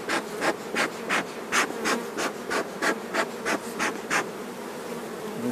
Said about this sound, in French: il y a beaucoup d'abeilles là